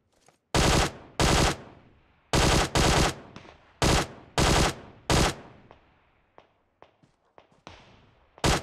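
Gunfire in the mobile battle royale game PUBG Mobile: several loud, close bursts of automatic fire in quick succession, followed by fainter scattered shots and clicks fading into the distance.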